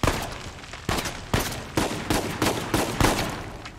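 Gunfire in Uncharted 4: A Thief's End rings out as a string of about eight sharp, loud shots at a fairly regular pace, each with a short decaying tail.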